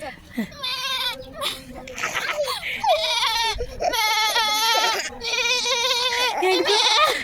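A goat bleats repeatedly in wavering, close calls that come in several bursts, while people talk over and between the bleats.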